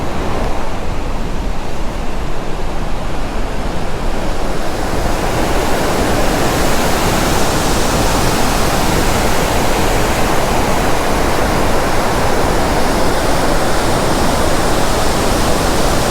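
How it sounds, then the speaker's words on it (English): Water rushes hard and continuously through a gorge after a storm, a dense, loud roar that holds steady with no voices over it. "There's a lot of water going on."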